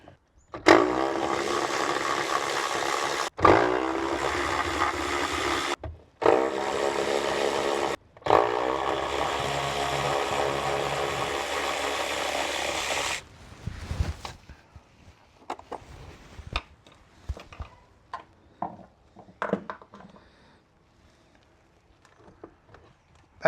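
Power tool driving out the 14 mm seat bolts in a Pajero: four long, loud whirring runs separated by short gaps, followed by scattered quieter clanks and taps.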